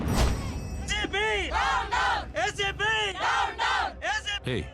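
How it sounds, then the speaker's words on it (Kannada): A crowd chants and shouts slogans in loud, rhythmic bursts, voices rising and falling together in repeated call-like phrases. "ನಮ್ ಗಾಡಿ ಪಕ್ಕದಲ್ಲೇ ಜನಗಳೆಲ್ಲ ವರನಾಯಕನಿಗೆ ಡೌನ್ ಡೌನ್ ಅಂತ ಕೂಕೊಂಡು ಬರ್ತಾ ಇದಾರೆ."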